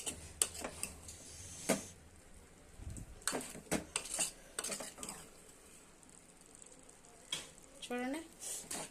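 Freshly pounded ginger garlic paste stirred into curry in a pan, heard as close, intermittent scrapes and knocks of a spoon against the pan over faint sizzling, with a short burst of voice near the end.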